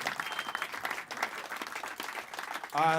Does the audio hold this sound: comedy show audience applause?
yes